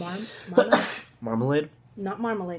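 A single sharp sneeze bursts out, close and loud, surrounded by conversational speech before and after.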